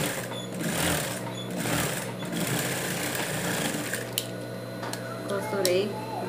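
A sewing machine stitches all the way around the felt tongue of a handmade dog shoe, running in a rapid, close mechanical chatter with short pauses, while someone talks over it.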